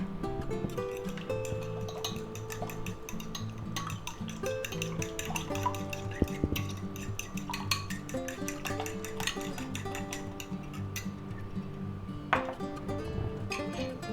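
Eggs beaten in a bowl with smoked paprika and cayenne: fast, steady clinking of a utensil against the bowl that runs without pause, close and fairly loud.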